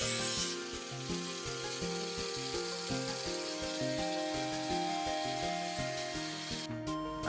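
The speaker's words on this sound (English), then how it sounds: "So just trimming off any little extra bits to get a nice flat surface." Repeated rhythmic rasping strokes of a hand tool trimming recycled wood shingles flat around a roof window, steady back-and-forth rubbing at close range with no voices.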